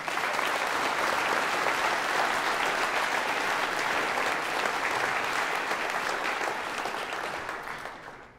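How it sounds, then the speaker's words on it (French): Steady, dense applause from a crowd at a final campaign rally, loud and continuous before tapering off at the end. "Je vous demande d'applaudir Marine Renavant"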